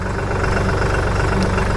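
A tractor engine running, a steady low rumbling chug with regular pulsing firing beats, close and loud throughout with no talking.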